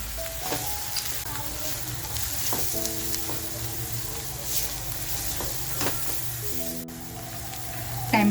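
Homemade masala hits browned onions in a hot pan for a crab thali, giving a steady close sizzle of frying with occasional stirring scrapes and light clinks.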